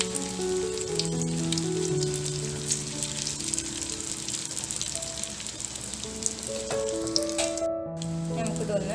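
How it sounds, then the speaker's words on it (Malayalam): Bread filling sizzles and fries steadily in hot oil, a close, continuous crackling hiss under background music and a speaking voice. "അപ്പോൾ എണ്ണ നല്ലോണം ചൂടായി വന്നിട്ട് അപ്പോൾ നമുക്ക് നേരത്തെ തയ്യാറാക്കി വെച്ചിട്ടുള്ള ഫില്ലിങ്സ് ഒക്കെ ഒന്ന് ഇതിലിട്ട് കൊടുക്കാം"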